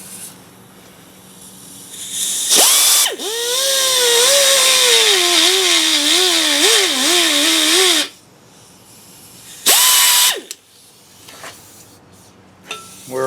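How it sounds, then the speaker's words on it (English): A carbide cutter on a high-speed rotary tool grinds out an oil hole on a 2110 engine part, a loud whining run of about five seconds with wavering pitch, then a second short burst after a pause. "you're going in there with a carbide cutter"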